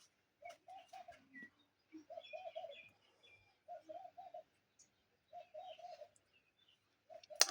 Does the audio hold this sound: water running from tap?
no